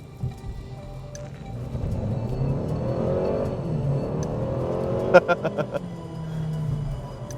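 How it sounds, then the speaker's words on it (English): The engine of a 2014 Mercedes-Benz CLA, a small car, revs up and holds a gruff mid-range drone, then gives a burst of short sharp pulses near the end, with someone talking over it. "listen to that little motor. It's not a classically wonderful sounding engine, but it is like grunty."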